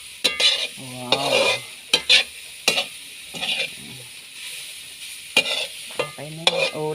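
Bamboo shoots stir-fried in a pan at close range, with a steady sizzle and repeated clacks and scrapes of a utensil stirring in uneven bursts.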